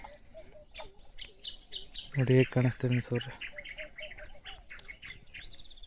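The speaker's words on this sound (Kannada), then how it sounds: "ನೋಡಿ ಅಲ್ಲೆಲ್ಲ ಪಕ್ಷಿಗಳೆಲ್ಲ ಹಾರ್ತವೆ." Birds chirp and call in the early morning over open farmland with sugarcane fields, faint and scattered at a distance, while someone talks over them.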